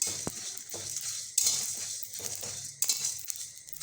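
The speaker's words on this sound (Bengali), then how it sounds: "আমাদের ধনেগুলো শব্দ করা শুরু করে দিয়েছে, তার মানে এটা ভাজা হয়ে এসছে" Coriander seeds fry with dried red chillies in a hot kadai while a spoon stirs them, making light crackles and pops among sharp scraping clinks of the utensil against the pan, close and moderately quiet, with no talking.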